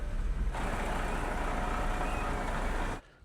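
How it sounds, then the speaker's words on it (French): Street sweeper truck on a French street, a loud, continuous motor roar with broadband brushing noise that holds steady and then cuts off abruptly near the end, leaving quiet. "le camion balayeur est parti."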